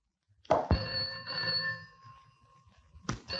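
An old-style telephone bell rings once with a sharp metallic trill, fading out, then a second ring starts at the end.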